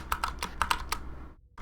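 Computer keyboard keys typed in a quick, uneven run of crisp close clicks, about eight strokes, then a brief pause into near silence.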